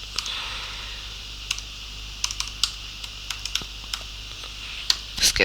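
Mouse clicks while building a racing car game in Scratch, a scattering of sharp, light clicks at irregular intervals over a steady background hiss, with a quick cluster of clicks near the end.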